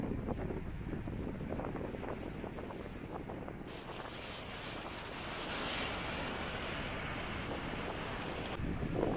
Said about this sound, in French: aujourd'hui il y a vraiment beaucoup de vent